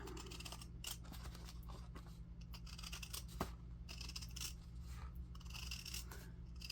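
Scissors cut through old denim jeans fabric with a steady, rasping snip-and-crunch texture that goes on without a break, close and fairly soft, and nobody talks.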